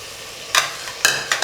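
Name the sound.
coriander and mint added to sizzling pan and stirred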